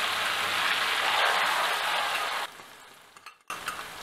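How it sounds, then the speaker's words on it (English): Onions, culantro, garlic and hot peppers frying in a pot, a loud dense sizzle for a couple of seconds that drops to a quieter crackle, with a brief stir near the end. "We're going to allow this to fry up for just about a minute until you smell all of that"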